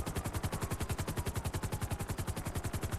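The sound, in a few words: gunfire at a police vehicle in video game GTA 5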